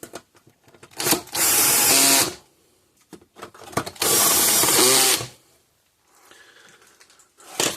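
A socket tool turns a nut on a 26-year-old Parmak Mark 6 electric fence charger, making two long, loud, steady mechanical whirring bursts close by, separated by quieter clicks and handling noise.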